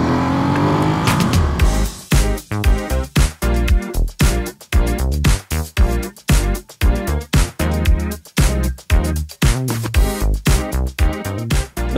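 A Ducati Monster motorcycle roars loud and close, its engine rising and falling in a rapid series of sharp revving bursts as it drops gears and accelerates hard, with no voices over it.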